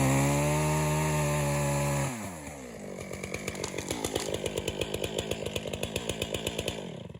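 A chainsaw idles steadily, then bites into a small tree being felled for timber-stand thinning, its engine bogging into a loud, rhythmic rasp of cutting close up.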